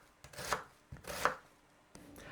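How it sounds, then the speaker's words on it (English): A knife finely chops an onion on a board, with three close, distinct slicing strokes of rising, crunchy texture spaced about a second apart, no voices. "So the next thing I'm going to do is just cut this fairly finely"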